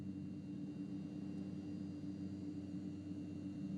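A Mitsubishi MU-2 turboprop in MSFS2020 drones steadily and evenly, with a constant low engine hum and faint high whine and no speech.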